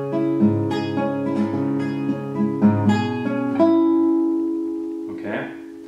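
Acoustic guitar with a capo playing the first bar of a song, fingerpicked notes ringing over sustained bass in a steady pattern, close and clear, ending on a held chord.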